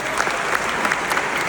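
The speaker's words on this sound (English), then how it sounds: "So guys, one more time, round of applause for the great example." Brief burst of dense crowd applause in a hall at an event with Khabib Nurmagomedov, many hands clapping at once with a few sharper claps standing out.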